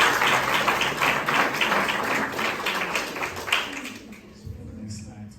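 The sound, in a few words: audience round of applause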